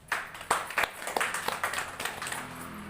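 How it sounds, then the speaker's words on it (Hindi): An audience at an IMC business meeting in Jharkhand claps for an upline member, a burst of sharp, uneven hand claps at close range over faint background murmur, thinning slightly toward the end. "जोरदार ताली हो जाए"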